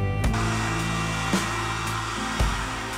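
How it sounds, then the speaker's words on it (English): A hair dryer blows hot air onto a plastic sheet to soften it for bending, a steady close whine with a rich hum, briefly shifting pitch twice as it is moved. "I'm going to see how well this bends with a hairdryer"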